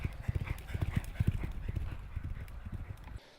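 Racehorse hooves clip-clop in a stable yard in a quick, uneven walking rhythm, fairly close and steady, with no talk over them.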